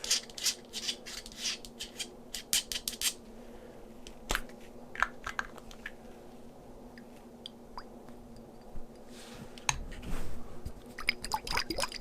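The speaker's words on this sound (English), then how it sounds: "You can hear how watery it is" A watery, milky makeup product in a container with a vinyl-record-like lid is handled up close, giving soft squishes, small liquid drips and light taps over a quiet background.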